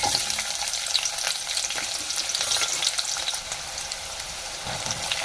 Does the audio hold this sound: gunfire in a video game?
no